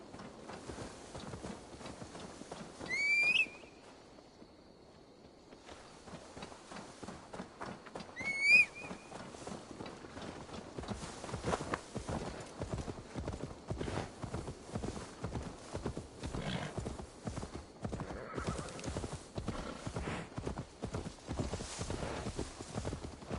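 Horse hooves clip-clop in a steady walking rhythm in Assassin's Creed Valhalla, close and continuous, with two brief whinnies early on and the gait picking up into a quicker, louder beat toward the end.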